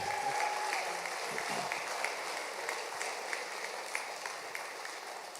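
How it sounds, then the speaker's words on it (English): Audience applause fills a graduation convocation hall for a physical therapy doctoral class, steady and dense throughout, fairly close and moderately loud. "One more round of applause."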